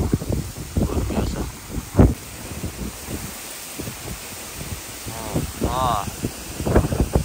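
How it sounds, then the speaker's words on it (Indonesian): Strong wind gusts across a campsite where tents are being pitched, buffeting the microphone in uneven rushes while someone talks over it. "dengan angin yang seperti ini kuatnya"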